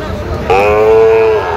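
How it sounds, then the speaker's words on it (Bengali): A Sahiwal bull at a cattle market gives a single long, low moo of about a second, close and loud over a murmuring crowd background. "এখানে শাহিওয়ালের ষাঁড় দেখছিলাম, কোয়ালিটি ফুল।"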